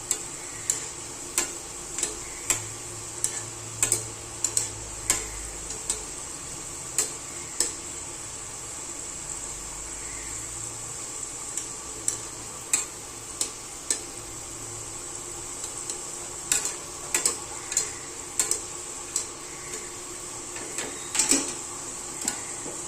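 Shankarpali, crisp sweet dough pieces, fry in a pan with a soft continuous sizzle, while sharp clicks and taps of stirring recur through the sizzle at an uneven pace. No one talks.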